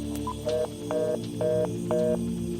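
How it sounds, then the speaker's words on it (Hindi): A phone line cuts off, followed by a short beep and then four evenly spaced electronic tones over a steady hum. "मेरी बात पूरी होने से पहले ही फोन कट चुका था।"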